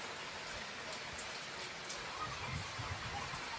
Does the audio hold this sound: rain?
yes